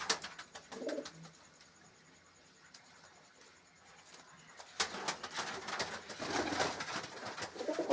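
Pigeons kept for sale coo softly in a low, muffled burst early on, then fainter rustles and sharp clatter fill the rest, with no voices.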